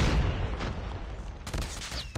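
Video game gunfire, a dense burst of loud shots at the start and a second cluster of sharp reports near the end, with no talk.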